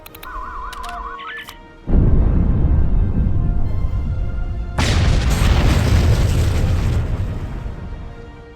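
Primed bombs blowing up in Star Trek Online, a sudden loud boom that cuts off electronic beeps and rolls into a long, dense rumble, followed by a second heavy blast that slowly dies away.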